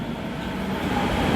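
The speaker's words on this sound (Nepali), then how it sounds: "बिना ड्राइभरको रेलमा हामी जाँदैछौँ।" A driverless metro train in Korea runs with a steady, close, low rumble and rolling noise that builds slightly toward the end, with no voices.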